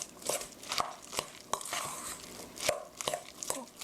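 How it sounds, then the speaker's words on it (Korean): A utensil cuts and folds through vegetable pancake batter in a bowl, making soft, irregular wet clicks and scrapes, close and quiet, with no talk. "고루 자르듯이 섞어주세요"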